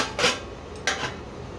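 Two clinking metal clatters as a lid is set onto a cooking pot of fish curry, the first a brief scrape and the second a sharper clink, close and fairly soft.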